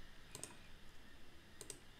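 Two pairs of quick, crisp computer mouse clicks, faint and close, come about a second apart against quiet room hiss.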